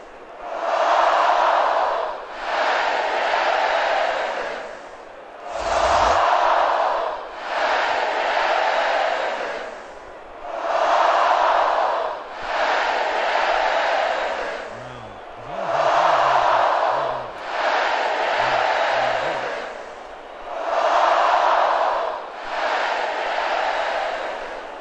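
Crowd cheering at a football game in Honolulu, a loud but less than full stadium, rising in repeated broad swells roughly every two seconds with brief dips between, one sharp thump near the middle and faint low voices underneath.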